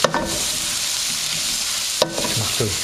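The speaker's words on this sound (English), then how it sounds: "We're just going to add that into the pan as it sizzles away." Cubed paneer stirred into a sizzling spiced onion mixture in a pan for saag paneer, a steady frying hiss with a couple of scraping stir strokes near the start and after two seconds, no talk.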